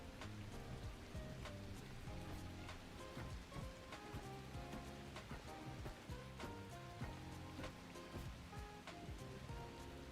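Rain falls steadily in The Last Caretaker video game, a constant dense patter with scattered drops and in-game tones mixed in, with no speech.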